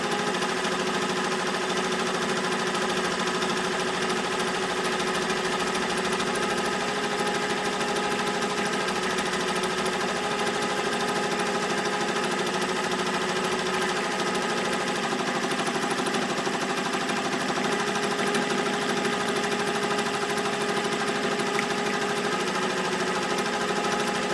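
An embroidery machine stitches a multi-name design on a shirt, giving a steady, continuous mechanical whir with a fine rapid buzz that runs unbroken and fairly quiet from start to finish, with no voices.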